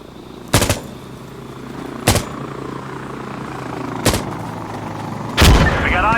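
Gunfire in the video game Insurgency Sandstorm during a PvP match: four loud, sharp shots spaced about one and a half to two seconds apart over a steady rumbling background, the last blast heavier and booming.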